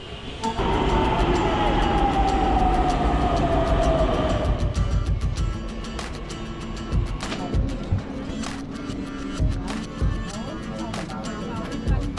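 A Pune metro train's electric whine slowly falls in pitch as it rolls and slows, then gives way to quieter rumbling and scattered clicks.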